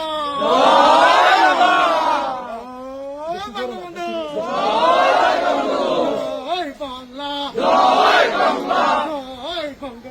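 At a night torch rally of Awami League supporters in Gopalganj, a large crowd chants slogans in loud, surging call-and-response waves, with voices rising and falling in repeated rhythmic bursts.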